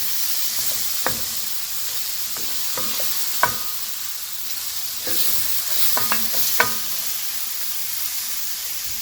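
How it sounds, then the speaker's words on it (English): Spatula stirring vegan lettuce-wrap filling of mushrooms, chickpeas and black beans with ginger powder in a hot pan: steady frying hiss with scattered scraping knocks, close and alone with no talk. "Mixing it up feels good."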